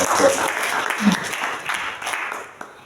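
Church congregation clapping together, a dense burst of applause that gradually thins out, with some voices mixed in.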